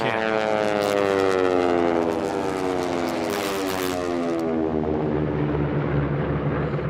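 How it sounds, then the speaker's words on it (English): A North American T-6 trainer races past a pylon at an air race, its big air-cooled radial engine roaring loud and near, with a crackling propeller buzz that sweeps downward in pitch as it passes and fades. "You hear that throaty roar of that big air-cooled radial engine, and you hear that crackling sound of that prop going by"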